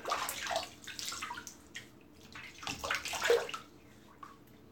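Tap water running and splashing as a face is wetted before a shave, a close, uneven rush with brief pauses and drips.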